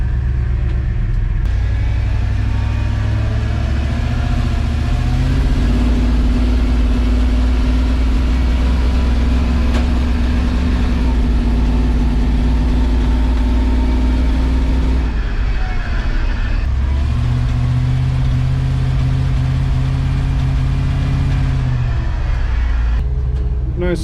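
A rough-running Chevy Vortec 7.4L engine drives around the block, its loud, steady low rumble rising and easing with changing speed throughout.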